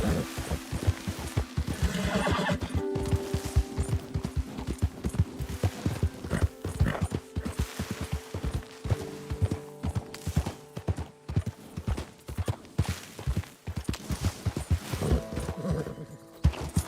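A horse in the Red Dead Redemption 2 video game trots with loud, close, rhythmic hoof clip-clops throughout, broken by several whinnying neighs.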